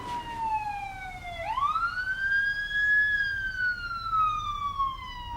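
An ambulance siren wails in a long sweeping tone that dips, then swoops up and slowly falls again. It is steady and fairly close, with no voices over it.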